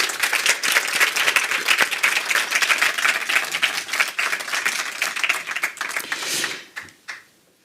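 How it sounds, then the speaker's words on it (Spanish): Strong audience applause at a live event at Casa de México in Madrid, brisk dense clapping from a moderate crowd sustained for several seconds before fading out, with a few last claps at the end. "Si damos un fuerte aplauso y arrancamos."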